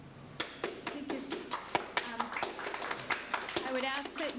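Audience applause in a room during a school committee meeting after a public comment: a brief burst of scattered, uneven hand claps from a modest group, moderately close, fading out toward the end.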